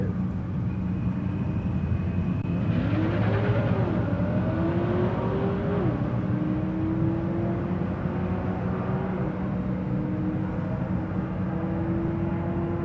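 Drag racing cars, including a 1969 Nova, accelerate on a strip at a Wednesday night drag event. A loud, continuous engine roar climbs through rising revs as the cars launch and pull away, with no talking heard.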